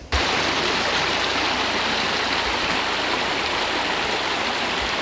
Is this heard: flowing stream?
yes